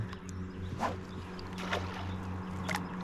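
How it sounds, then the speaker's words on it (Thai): Motorboat passing on the Moei river, a steady low engine drone with water splashing and sloshing over it, fairly close and continuous for a few seconds. "จังหวะเรือมาพอดีเลย เสียงมันดังเสียงมันเข้ากล้อง"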